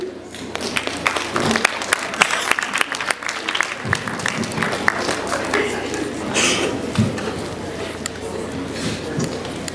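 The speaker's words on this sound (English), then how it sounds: "a big round of applause for all the winners, for the learners, for the schools" Crowd clapping at a climate change art and essay competition award ceremony in Kenya, sustained applause of many hands for the winners, loud and continuous throughout.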